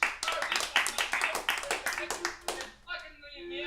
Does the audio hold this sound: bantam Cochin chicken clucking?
no